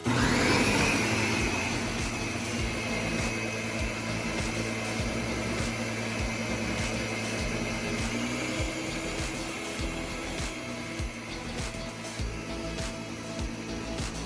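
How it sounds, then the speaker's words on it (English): A juicing blender runs continuously at high speed, a loud steady motor whine with a churning hum that holds unchanged for the whole stretch, alone without voices. "this was the blender that came out of that"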